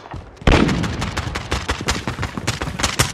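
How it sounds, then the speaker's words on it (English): In the Call of Duty Modern Warfare video game, a sentry gun opens fire with a sudden burst, then keeps up a dense, rapid stream of loud, close gunshots that continues without a break to the end. "Friendly sentry gun online."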